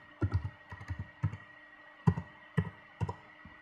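Someone types a password on a computer keyboard, about eight close, crisp key clicks in uneven bursts with short pauses between them, alone with no talk.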